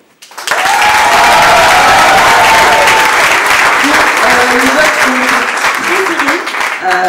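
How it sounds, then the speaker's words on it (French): Sustained applause from a large audience, loud and steady for several seconds, with a few voices and faint tones mixed underneath. "je voudrais qu'on applaudisse déjà des 10 projets."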